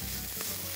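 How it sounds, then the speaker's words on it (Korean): Supermarket bulgogi-cut beef stir-frying in a pan gives a steady close hiss of sizzling, broad and even, with a faint scrape or stir midway through the short moment. "다음은 고기를 볶을 건데요."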